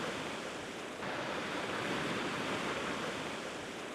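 Waves washing onto a sandy beach in Bali, a continuous soft roar of surf heard from nearby with no voices, swelling a little after the first second.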